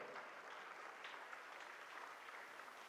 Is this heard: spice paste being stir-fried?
no